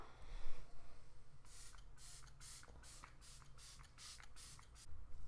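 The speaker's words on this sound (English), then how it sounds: "for setting spray, I'm going to use the Glam Glow Setter" Several quick, hissing bursts of Glam Glow setting spray misted onto a face in a steady rhythm, close and fairly soft, against a faint background hum.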